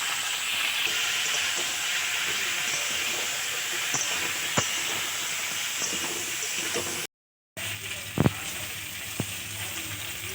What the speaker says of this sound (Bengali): এবার আস্তে আস্তে ভেজে নেওয়া হবে